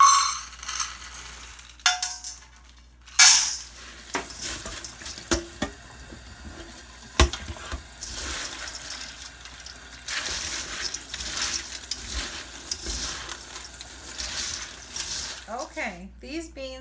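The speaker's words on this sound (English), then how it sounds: "I'm going to give them a measure and get them rinsed." Dry beans are measured out and rinsed in water in a kitchen, with splashing and tap water, sharp clicks and clatters of beans against the container, and loud bursts near the start and end.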